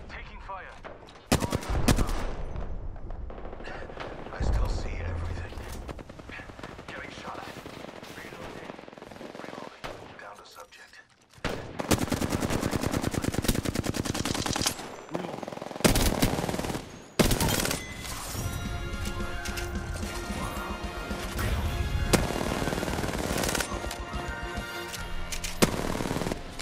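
Sustained gunfire in the video game Apex Legends, with rapid bursts of automatic weapons, dense overlapping volleys and heavy shots crowding nearly the whole stretch, pausing only briefly before resuming loud and close.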